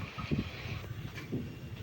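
Low rumbling of the Madurai–Punalur Express slowly getting underway, with a couple of soft clunks and a steady background drone and faint wind noise.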